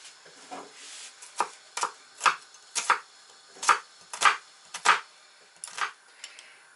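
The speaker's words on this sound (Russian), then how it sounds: "Сейчас лук нарежем." A knife chops an onion on a cutting board, about a dozen crisp, close knocks in an uneven rhythm of paired strokes, alone in a quiet kitchen.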